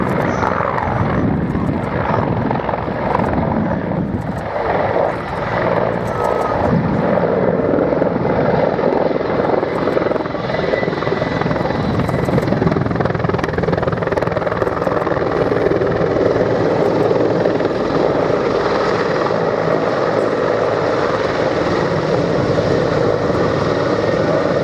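A Mil Mi-24V Hind helicopter passes at an airshow, a loud continuous rotor and turbine roar that stays strong and dense throughout, with a voice commentating faintly over it.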